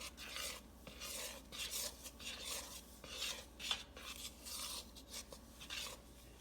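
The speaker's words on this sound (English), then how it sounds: "Now use a large spoon and stir those ingredients together." Pizza dough ingredients being stirred together with a large spoon, a quiet close-up run of scraping, rubbing strokes against the bowl in an uneven rhythm, with one sharper clink partway through and no talking.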